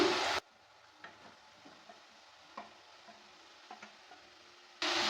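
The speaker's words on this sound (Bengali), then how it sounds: "এবার এর মধ্যে দিয়ে দিচ্ছি আলু আর পটল যেটাকে ভেজে রেখেছিলাম" Fried potato and pointed gourd are stirred into sizzling spice paste in a pan, with a low steady sizzle and scattered spoon scrapes and taps, framed by louder noise bursts at both ends.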